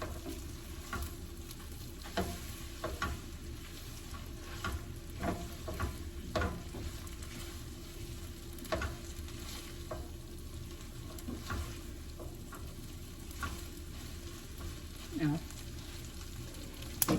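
Shrimp pad thai noodles are stir-fried in a pan, a steady low sizzle broken by repeated scraping and tossing clicks from the utensil, fairly faint and even throughout.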